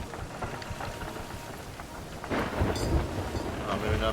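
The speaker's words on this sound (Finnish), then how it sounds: "Me mennään myrskyn läpi." A thunderstorm with heavy rain and wind while travelling through the storm, as a steady loud roar of downpour with a louder rumbling surge about halfway through and no speech.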